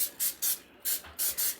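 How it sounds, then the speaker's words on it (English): Vegetable oil cooking spray greasing a fluted cake pan, four short hissing bursts in quick succession with brief gaps between them, close and clear, with no talking. "so I'm going to use some vegetable oil spray"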